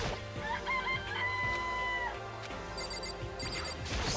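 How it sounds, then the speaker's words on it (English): Rooster clucking and crowing in the video game Danganronpa, drawn-out crowing calls over a layered game music track with a repeating ringing tone, no talk. "It's a rooster. It's a chicken."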